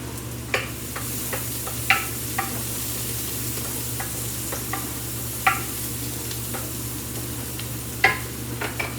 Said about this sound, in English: let's check on our veggies. We're sauteing those.